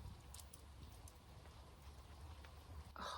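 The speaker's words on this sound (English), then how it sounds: "Here comes the rain." Steady, soft rainfall patter in woodland at a hammock camp, with occasional drips, quiet and even, no voices.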